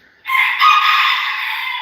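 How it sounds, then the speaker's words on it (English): A rooster on a farm crows once, loud and close, in a single sustained call of nearly two seconds. "my rooster is going crazy back there."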